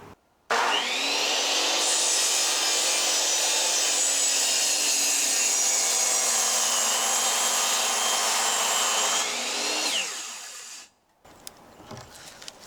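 A power saw cuts through a 4x6 wooden beam for a gazebo foundation, one loud continuous whining cut of about ten seconds that winds down, followed by a few faint knocks.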